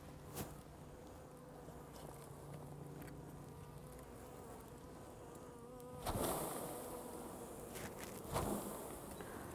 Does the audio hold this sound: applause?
no